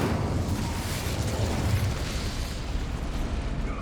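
A fiery Incendio spell blast in Hogwarts Legacy, a dense, continuous roaring whoosh of flame that stays loud and steady for several seconds with a low rumbling body.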